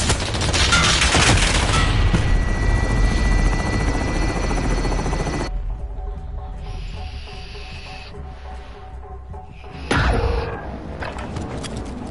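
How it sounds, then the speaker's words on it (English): An extraction helicopter in a PS4 military shooter game, a loud rotor thrum with whining turbine, joined by gunfire in the first seconds, then easing to a lighter hum before a brief surge near the end. "Extraction helo is ready for pickup."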